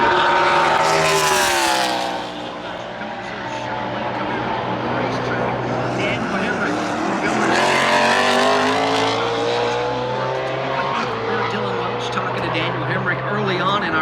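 A NASCAR Cup Series race car on a qualifying lap at ISM Raceway roars loudly past, its engine pitch rising and sweeping down as it approaches and goes by, with a commentator talking over it.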